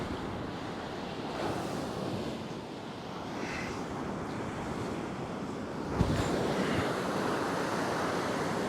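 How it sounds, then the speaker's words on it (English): Wind gusts across a seashore fishing spot, a steady rushing roar mixed with breaking surf, buffeting the microphone and briefly swelling louder partway through. "The wind is blowing straight at me."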